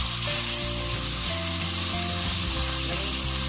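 Chicken coxinhas filled with requeijão frying in hot oil, a steady close sizzle and bubbling that runs without a break throughout.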